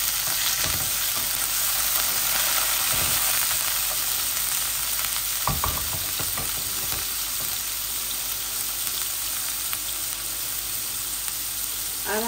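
Carrots stir-frying in a pan for chicken chow mein, a steady loud sizzle throughout with occasional clanks and scrapes of stirring, no talk.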